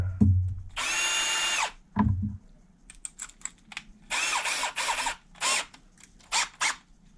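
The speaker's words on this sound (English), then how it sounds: "Chuck our bit back up in here." A power drill whirs in several short bursts, starting and stopping repeatedly, with clicks and handling noises between bursts.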